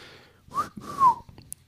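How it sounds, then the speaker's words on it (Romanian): A man whistles softly, two short rising-and-falling whistled notes in a quiet room, close and gentle, with brief breaths between them. "Lombard fluieră încet"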